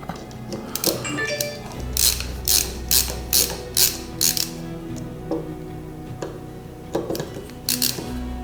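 Belt tension screws being tightened on a Prusa Mini clone 3D printer, a series of close, sharp ratcheting clicks in short regular bursts over a low steady hum, pausing midway and resuming briefly near the end.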